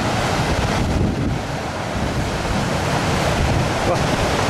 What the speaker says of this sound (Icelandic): Brimið.